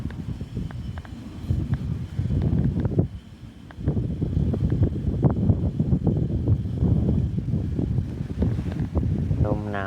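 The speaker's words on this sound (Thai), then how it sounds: "ลมหนาวแล้วพี่น้องเลยเนาะมันเริ่มลมเริ่มหนาวมาแล้ว" Cold wind blows steadily across the microphone outdoors on a rural farm, a continuous rough rushing and buffeting that dips briefly then surges back, with faint rustling and no clear voices.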